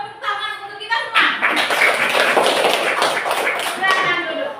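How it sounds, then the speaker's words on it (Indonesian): Pupils in an Indonesian primary classroom clap together in a dense, steady burst of applause lasting several seconds, with children's voices mixed in at the start. "Tepuk tangan untuk kita semua."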